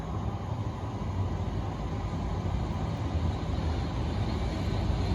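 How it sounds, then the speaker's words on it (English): A Great Western Railway train from London Paddington rolls into Cheltenham Spa station, a steady low rumble and broadband rail noise holding fairly loud and continuous with no voices. "coming in now is the 1529 Great Western Railway service from London Paddington"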